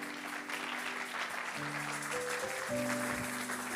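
Steady applause from a crowd, with music-like tones underneath, continuing evenly for several seconds.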